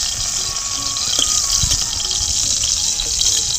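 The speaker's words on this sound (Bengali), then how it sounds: "জোর বৃষ্টি পড়ছে" Heavy rain pours down in a steady, loud, rushing wash of water, with a few faint knocks and rattles underneath.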